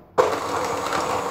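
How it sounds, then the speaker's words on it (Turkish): An electric hand mixer switches on abruptly and runs with a steady buzzing whir, close and fairly loud, mixing a thick cocoa batter with egg whites. "Mikserimle karıştırıyorum."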